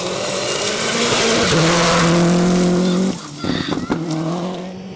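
A Mazda 2 rally car at the Algoa Rally, driven hard through a high-speed section, its engine loud and close at high revs with squealing tyres before the note drops sharply as it shifts and passes.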